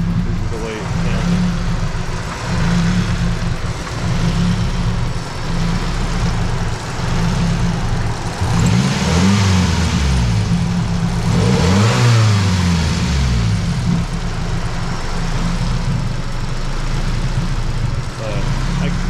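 A Nissan car with a KA24DE engine runs roughly, its uneven idle rising into several revving swells before settling back, close and loud throughout.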